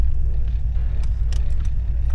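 A 1980s AE86 Toyota Corolla idles roughly at low revs, a heavy, loud, uneven low rumble with a shaky pulse and a few faint clicks over it.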